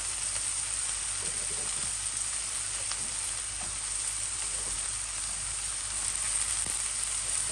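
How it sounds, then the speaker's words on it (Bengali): Thin strips of radish frying in a pan, a steady close hiss and sizzle held throughout with faint stirring scrapes and no voices. "আমার বাসায় সিম নাই, তাই আমি শুধু মূলা দিয়ে ভাজি করছি।"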